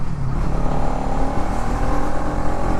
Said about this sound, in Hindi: As you can see, I'm in the 4th gear. Just twist the throttle and when it crosses the mid range it just goes